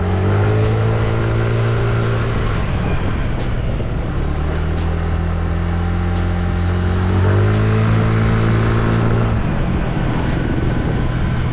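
A Vario Techno 110 motorbike fitted with a hybrid air filter revs loudly close by, its engine note climbing and falling through two long rev sweeps with a steady idle between.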